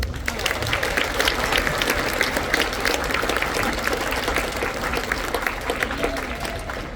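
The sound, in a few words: audience applause at school band concert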